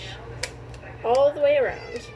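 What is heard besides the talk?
pet cat meowing in kitchen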